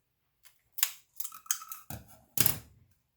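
Scissors snipping through plastic drinking straws, with four or five short, crisp cuts spaced unevenly over about three seconds, close and fairly quiet against a silent background.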